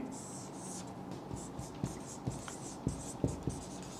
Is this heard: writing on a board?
yes